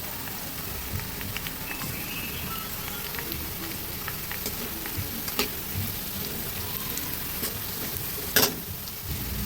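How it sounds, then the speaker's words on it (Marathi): Half a spoon of turmeric hits hot oil in a pan while kanda pohe is cooked, giving a faint, steady sizzle with a few small crackles and pops and one brief clatter near the end. "आता टाकत आहे मी तेलात अर्धा चमचा हळद"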